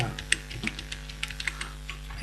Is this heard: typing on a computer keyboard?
yes